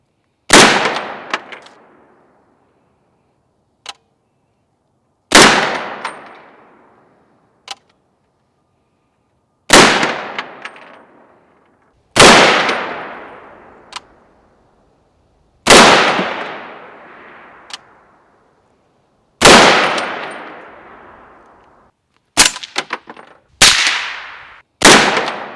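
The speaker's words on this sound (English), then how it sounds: "Versus here is Noah shooting unsuppressed, supersonic, where it clearly comes in way above 130 decibels" Unsuppressed supersonic 300 Blackout rifle shots at an outdoor range, very loud sharp cracks fired one at a time with long decaying echoes between them, plus a quick cluster of shots near the end.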